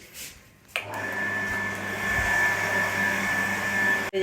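An electric water pump at home starts up with a click and settles into a steady, loud, close motor hum with a faint high whine, then cuts off abruptly at the end.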